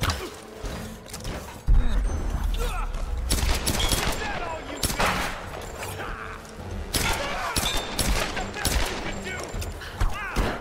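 Rapid gunfire bursts and sharp weapon cracks in the Tomb Raider (2013) video game, dense and loud and repeating over a busy fight, with a person talking over it.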